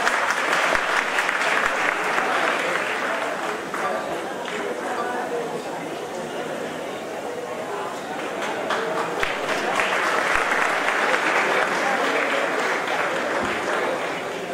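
A crowd at a college freshers welcome event claps loudly and continuously for a guest, a dense steady roar of applause with a voice talking over it.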